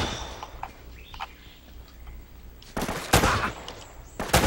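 Gunfire in the video game Uncharted: Drake's Fortune, a few sharp loud bursts of shots, clustered near the end after quieter game ambience with scattered small clicks.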